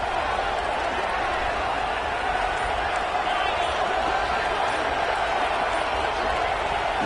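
A football stadium crowd roars in a steady, dense wash of noise as the defense tries to hold near the goal line, with faint commentary underneath.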